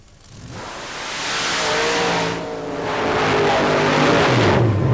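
A modified Jeep with a roll cage and a 488-cubic-inch Chevrolet engine tears through a paddle-tire mud race, its loud engine building and surging in a sustained roar with a brief dip partway, heard close.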